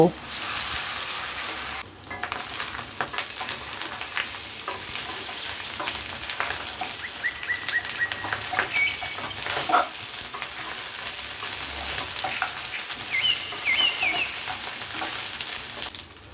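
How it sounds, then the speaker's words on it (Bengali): Beef pieces frying in hot oil in a pan, a steady dense crackling sizzle that continues throughout with occasional louder pops and faint clinks of a slotted spoon, no talking. "তেলটা গরম হলে একটা জালি স্পুন দিয়ে মাংসটা উঠিয়ে তেলে দিতে থাকব তারপর মাংসগুলো ভেজে নিব"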